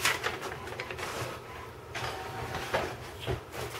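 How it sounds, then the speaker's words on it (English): A printer runs in the background of a room, its mechanical whirring and shuffling steady at moderate level with a few brief clicks and knocks, no speech. "I apologize about the background printer noise"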